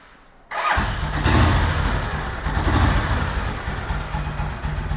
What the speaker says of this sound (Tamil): இன்ஜினோட நோட்டையும் கேளுங்க.